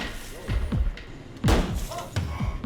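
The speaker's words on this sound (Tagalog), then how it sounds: "ay babasagin ang salamin" Hammer striking car window glass covered with matting, a series of dull thumping blows, several in quick succession with one heavier whack in the middle, close and muffled.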